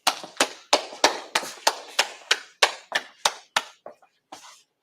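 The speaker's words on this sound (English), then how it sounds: "All right, clap it up." A group claps in unison, about a dozen sharp, loud, evenly spaced claps in a quick steady rhythm that trail off into a few scattered claps.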